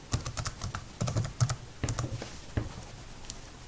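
Quick bursts of computer keyboard typing while entering a name in an AutoCAD 2020 save dialog, close and crisp, with uneven clusters of keystrokes and short pauses, no talking.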